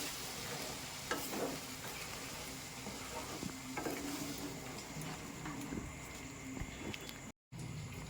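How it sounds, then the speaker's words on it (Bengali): Mutton fat ghugni fries in a pan as a small amount of water goes in, giving a steady, fairly quiet sizzle and bubbling with a few soft stirring knocks throughout. "এবার আমি জল দিয়ে দিচ্ছি এর মধ্যে অল্প পরিমাণ"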